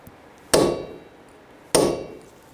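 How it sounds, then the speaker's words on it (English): Hammer tapping a chisel to peen over an axle nut on the rear suspension knuckle of a 2003-2008 Subaru Forester, two sharp metallic strikes about a second apart, close and loud. "I'm just going to take a chisel and we're just going to peen this over. Just give it a tap."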